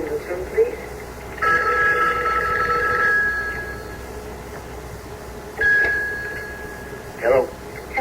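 An old telephone bell rings in a 1977 radio soap drama, sounding in two long trilling bursts separated by a pause and then a short third burst, loud and close in a quiet room.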